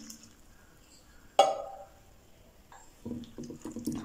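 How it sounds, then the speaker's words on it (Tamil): Soya chunks are rinsed with water in a vessel in a kitchen, giving a soft splash and clink followed by quiet, irregular sloshing and dripping nearby. "வேற ஒரு பாத்திரத்துல மாத்தி வச்சிருக்க சோயாவுல நார்மல் வாட்டர் சேர்த்து ஒரு முறை அலசிக்கங்க."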